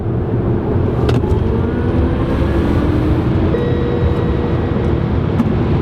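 A Tesla Model S P100D drives and overtakes, giving a steady, loud road and tyre roar with a faint high whine, and no talk.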